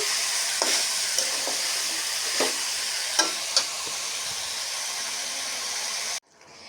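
Shrimp cooks down with drumsticks and lentil dumplings in a pan, a steady hissing sizzle under a few sharp spatula knocks and scrapes, close by, ending in a sudden cut to near silence.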